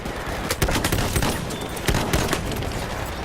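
Rifle gunfire from a Battlefield 1 Apocalypse DLC weapon resembling the Farquhar Hill, a steady run of loud, close semi-automatic shots with a few sharper cracks standing out, continuous through the whole stretch with no talking.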